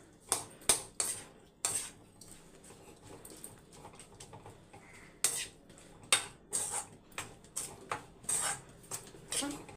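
Lemon rice mixed in a metal vessel with a spoon, a series of close, rhythmic scraping and clinking strokes against the pot.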